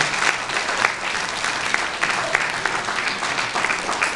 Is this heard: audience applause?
yes